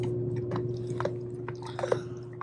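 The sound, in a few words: dog crunching on fish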